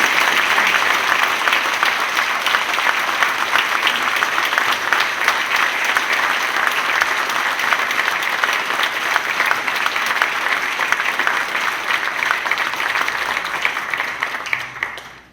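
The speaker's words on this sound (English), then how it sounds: "How about a round of applause for our committee?" Sustained audience applause for the committee at a mayoral candidates' debate, dense steady clapping held for about fifteen seconds before tapering off at the end.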